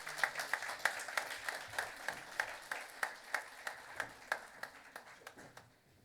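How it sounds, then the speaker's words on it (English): Audience at a national convention of insolvency professionals and registered valuers applauding, a modest crowd clapping steadily and fairly faintly in a rhythmic patter that fades at the end. "A big round of applause."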